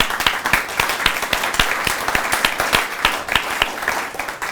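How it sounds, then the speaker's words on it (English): Audience applause at a tenth anniversary event, loud clapping from a crowd with sharp individual claps standing out of the dense, continuous patter, holding steady throughout. "let's just give ourselves a round of applause"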